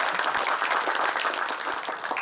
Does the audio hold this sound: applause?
yes